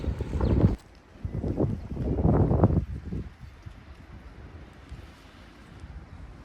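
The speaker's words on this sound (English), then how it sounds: "But it's very windy here." Gusts of wind in Nouadhibou, Mauritania buffet the microphone in heavy rumbling bursts, then ease to a lighter, steady blustering.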